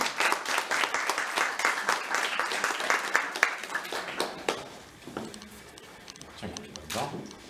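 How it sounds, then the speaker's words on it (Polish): Audience at an agency's anniversary event applauds as company representatives come forward, several seconds of rhythmic clapping that thins out and gives way to a voice and room noise. "Gorąco brawa."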